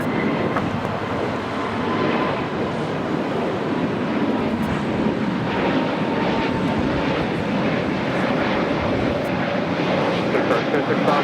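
A Spirit Airlines airliner roars down runway 25 right at Los Angeles International Airport on takeoff, a loud steady broadband engine rumble that holds throughout with voices talking over it.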